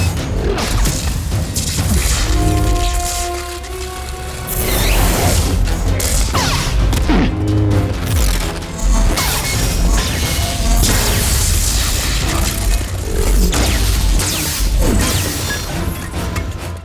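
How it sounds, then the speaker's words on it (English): Lightsaber battle effects from the Star Wars series Ahsoka with a spinning double-bladed lightsaber, a loud, dense stretch of humming blades, whooshing swings, clashing hits and crashes layered with dramatic score, with no talking. "This episode is packed with lightsaber battles, like Ahsoka battling Marok. So Marok has this spinning double-bladed lightsaber weapon,"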